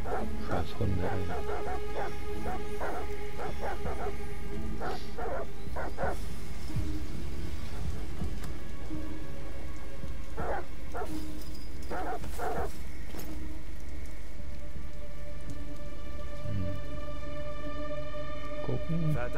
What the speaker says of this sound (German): Verdammte Hunde. Warum bellen sie schon wieder?